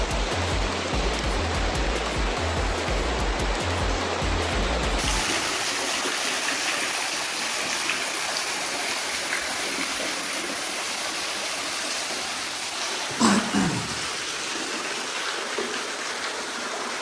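Water pours down a waterfall in Meghalaya, a steady, loud, broadband rush close by, with a brief louder splash partway through.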